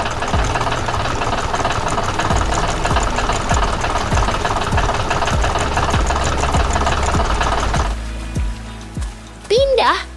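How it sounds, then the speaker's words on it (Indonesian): A loud, steady engine chugs and knocks continuously, then drops away near the end as a few higher sweeping tones appear. "Traktor merah berlari dengan cepat di tengah pertanian yang hidup."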